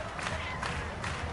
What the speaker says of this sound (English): You can hear the fans clapping right with the WCW Patriots.